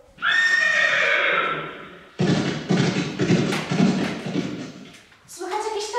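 A carriage team of five horses drawing a golden coach: a loud, drawn-out neigh followed by thudding hoofbeats and clattering, then another whinny rising at the end.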